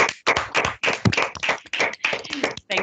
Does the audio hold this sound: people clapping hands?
yes